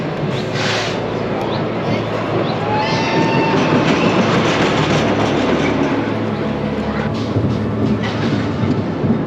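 Vol d'Icare roller coaster at Parc Asterix running along its rails: a loud, steady rumbling roar with rattling clatter from close on board throughout, and faint rider voices mixed in.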